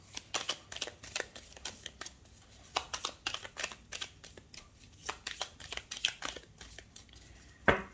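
Tarot cards are cut and shuffled close up, a run of quick riffling bursts and soft slaps in irregular clusters, with a sharper clack at the very end, in an otherwise quiet room.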